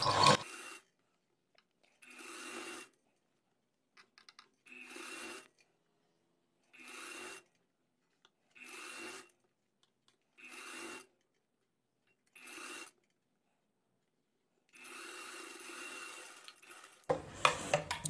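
A sewing machine stitches the folded hem of a kurti in about nine short, separate bursts of fast rasping stitching, each a second or so long with quiet pauses between.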